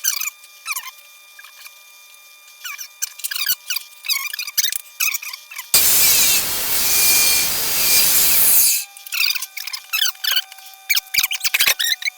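A power saw cuts metal for a Predator 212 motor mount in one loud, harsh burst of about three seconds, with lighter scraping and handling clatter before and after.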